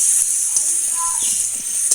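Snakehead fish frying in hot oil gives a steady, close sizzling hiss that runs unbroken, with faint scattered crackles beneath.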